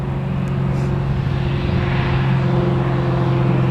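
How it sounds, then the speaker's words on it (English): A small propeller plane drones overhead near Newcastle Airport, its steady engine hum and propeller tone holding constant and fairly loud throughout, with no voices. "we've got a little prop coming in, I think"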